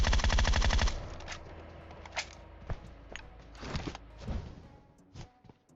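A loud burst of rapid automatic gunfire in PUBG Mobile opens, followed by scattered single shots and short bursts, more distant and quieter.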